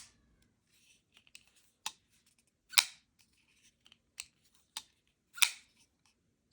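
A folding knife opening with its detent: a handful of sharp, brief metallic clicks spaced irregularly, close and fairly quiet with silence between them and no talking.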